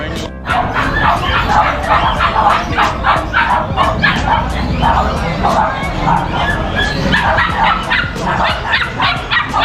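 Dogs at a dog seller's, including Pomeranians, bark, yip and whimper continuously in a busy, loud chorus, with people talking underneath.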